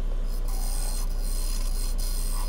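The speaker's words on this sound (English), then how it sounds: "This lathe keeps stalling out on me if I'm putting a lot of pressure on these cuts." Maple spinning on a wood lathe scrapes against a cutting tool in a steady, close, continuous rasping hiss with a constant motor drone underneath.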